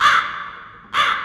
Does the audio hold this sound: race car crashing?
no